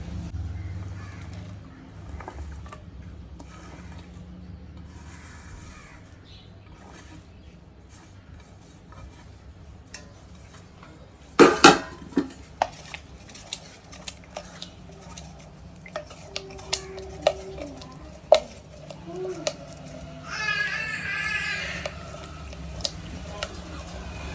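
Metal utensils clatter and scrape against a large pot of porridge being stirred at home, in irregular bursts, with crows cawing in the background and some faint talking.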